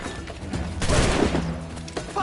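A volley of musket gunfire in the pirate-era video game Assassin's Creed 4 Black Flag: a loud, dense burst of overlapping shots that swells mid-way and trails into rumbling battle noise.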